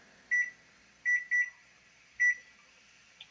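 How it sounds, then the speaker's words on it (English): A kitchen timer is set with four short, high electronic beeps, one alone, then a quick pair and a final one, clear against a quiet room. "So I'm going to set a timer for 7 minutes just so I can check them."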